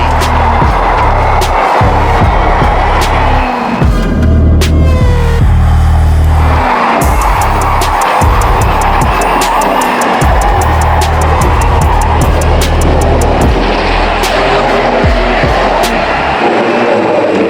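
Rotax karts racing at the Grand Finals in Bahrain, loud high-revving two-stroke engines screaming past close by in overlapping waves, pitch rising and dropping as the pack passes.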